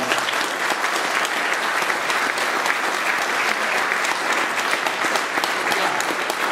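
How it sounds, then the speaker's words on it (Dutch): An audience gives warm applause for two performers, Faya and Iris, producing steady, full clapping from a sizable crowd that continues evenly without any pause. "Geef ze een warm applaus."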